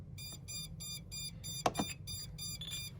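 A Radiomaster TX16S radio transmitter in bind mode gives a steady series of short, evenly spaced electronic beeps, about ten, faint and close, with a couple of soft clicks partway through.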